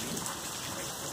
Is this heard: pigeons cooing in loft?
no